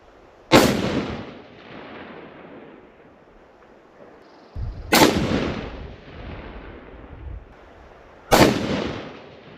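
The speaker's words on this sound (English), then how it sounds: "and then we'll shoot 3 more shots" Rifle shots at an outdoor shooting range, three loud sharp cracks spaced several seconds apart, each with a rolling echo trailing off, no talk.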